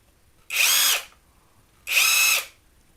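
RUYIKA cordless half-inch-drive impact wrench ratchet gun runs in two separate bursts of about half a second each, a loud close whine with brief pauses between.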